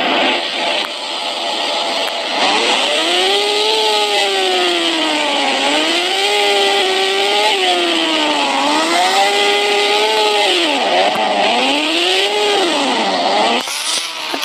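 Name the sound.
motorcycle engine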